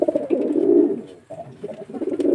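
Pigeons coo steadily in a loft where young birds and a paired couple are kept for racing, a close, continuous low murmuring broken by one brief pause before the cooing resumes.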